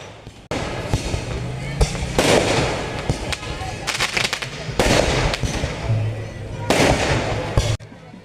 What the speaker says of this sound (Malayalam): വർണ്ണാഭമായ വെടിക്കെട്ട് ആകാശത്ത് കമനീയമായ വർണ്ണങ്ങൾ ചാർത്തി